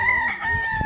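A gamefowl rooster on a farm gives a short, clear crow, close and moderately loud, lasting under a second with a faint low rumble beneath.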